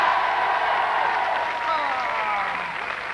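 Studio audience applauding French TV show host's introduction of a Belgian singer, a dense steady wash of clapping and some cheering that holds loud throughout, easing slightly near the end.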